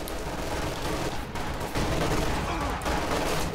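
Sustained battle gunfire from the video game Company of Heroes 2, dense overlapping shots and bursts filling the whole stretch at steady loudness, with no talk over it.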